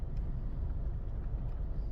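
Steady low road traffic rumbles from beside a cemetery in Nunica, Michigan, a continuous wash of passing cars at moderate distance with no voices over it.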